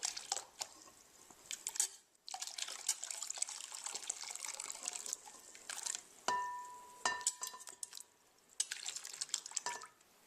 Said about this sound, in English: Now we're just going to transfer our jalapenos to a bowl of icy cold water, like so.